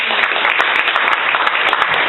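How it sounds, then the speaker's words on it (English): Audience applause for a speaker being welcomed to the stage at a storytelling event, a dense, steady wash of clapping that holds at an even level throughout with no voices over it. "And give her a big round of applause."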